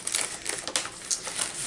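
Scissors snipping and crinkling through a paper mail envelope, several crisp cuts and rustles in quick succession, close up with no talking.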